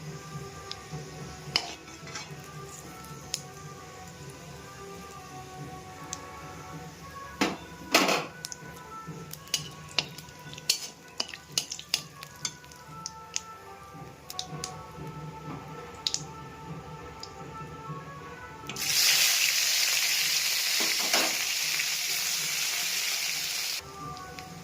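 Cumin seeds and spices fry in hot oil for a shrimp and kalai greens ghonto, with scattered crackles and pops that give way to a loud, steady hissing sizzle near the end.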